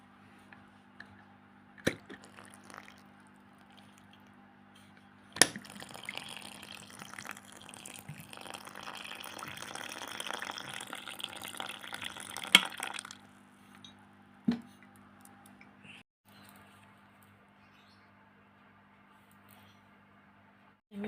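Hot water from a flask splashes faintly into malpua batter, then a stretch of soft wet stirring and squishing as the batter is mixed, with occasional light knocks in a quiet kitchen.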